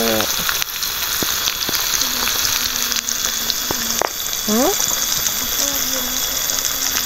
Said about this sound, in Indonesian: sekarang kita masak tempe.